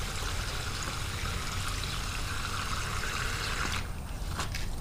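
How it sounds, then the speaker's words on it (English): Water pouring steadily into a bag of aquarium sand being rinsed, a continuous trickling, streaming flow at moderate volume that briefly thins near the end. "You start to fill the bag up with water"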